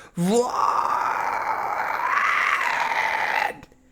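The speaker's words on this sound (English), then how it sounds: "if you want to get really weird fry screams, take your fry, and pull the epiglottis back a bit" A single vocal fry scream made with the epiglottis pulled back, a gritty, raspy sustained tone lasting about three seconds, loud and close, starting with a short rising onset and cutting off abruptly.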